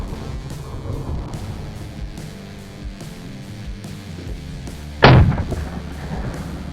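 An M79 Thumper grenade launcher fires once: one loud, sharp report that jumps abruptly out of a low rumbling background and fades quickly.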